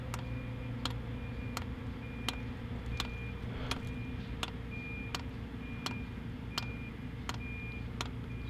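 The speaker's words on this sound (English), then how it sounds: "Even though it's on right now, it's clicking." Faulty diesel fuel pump of a JDM van's heater ticks in a steady, evenly spaced click about every half second, faint and close, over a constant low hum of the running heater and engine.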